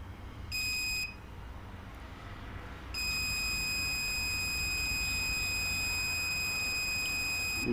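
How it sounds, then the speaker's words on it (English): A series continuity tester's buzzer gives a short high beep, then after a pause sounds a long continuous tone that holds steady to the end, fairly clear over a low hum. "the beep will start."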